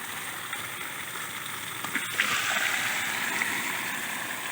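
Water rushes steadily out of four opened valves on breeding tanks, a constant broad gushing hiss with little variation, close and moderately loud.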